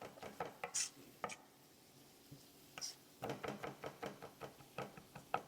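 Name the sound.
knife finely dicing food on cutting board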